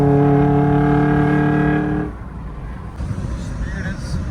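A Suzuki Jimny engine drones on the highway at speed, a steady, strongly tonal hum for about two seconds before it drops away to softer, uneven road and wind noise.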